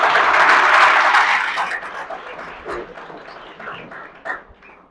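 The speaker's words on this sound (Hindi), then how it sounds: "तालियां धीरे बजाते हो, बजा दो एक बार जोरदार" Audience applause at a Hindi stand-up comedy show, a loud burst of clapping that gradually thins and fades out over a few seconds.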